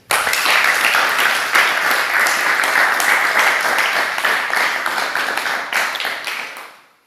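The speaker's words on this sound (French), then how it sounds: "Applaudissons pour le Seigneur." A church congregation breaks into loud, sustained applause, dense and steady for several seconds before fading out at the end.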